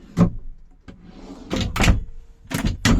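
A large kitchen drawer in a 2019 Adria 600 SPB Suprême caravan slides and thuds shut several times, with sharp knocks and a soft sliding rumble between them, close and fairly loud.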